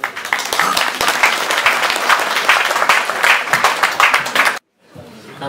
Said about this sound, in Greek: Το χειροκρότημά σας για το Σταύρο του Τζανή.